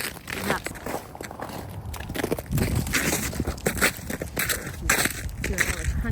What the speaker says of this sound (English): Hearing all the crunchy sounds of the ice.